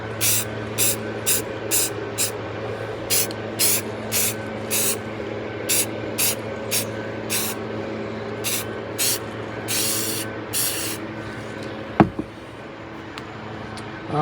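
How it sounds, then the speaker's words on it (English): Aerosol can spraying red paint onto the plastic hull of a 1:600 scale Revell S.S. United States model ship, in a steady series of short bursts followed by a longer hiss and a sharp knock. "Alright, we're going to paint the hull red."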